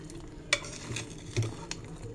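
Meat is stirred with onions in a pan, giving a couple of clear scraping turns over a low, steady sizzle.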